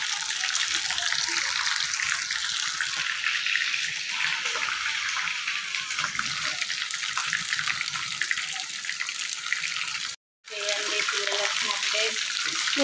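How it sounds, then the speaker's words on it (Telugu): Chicken pakoda frying in hot oil for children's snacks gives a steady, loud, close bubbling sizzle that runs throughout, broken by a brief moment of silence near the end. "నేనైతే చికెన్ పకోడీ వేస్తున్నా"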